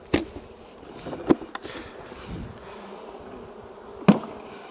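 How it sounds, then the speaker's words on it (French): Honeybees being moved into a hive make a steady close buzzing hum, broken by a few sharp knocks and clicks of hive parts being handled. "Ça, on va mettre les abeilles."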